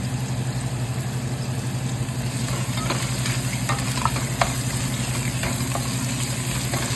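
Tomato paste being stirred into an Ivorian-style fish soup, a steady scraping and sizzling swirl in the pot over a constant low hum, with occasional sharper utensil clicks.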